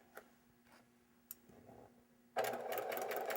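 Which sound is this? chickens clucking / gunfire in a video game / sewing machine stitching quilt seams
sewing machine stitching quilt seams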